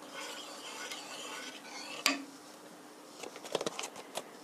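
A spoon stirs cream sauce for fusilli in a pot, giving quiet, continuous swirling and scraping with a sharp clink near the middle and a flurry of light taps toward the end.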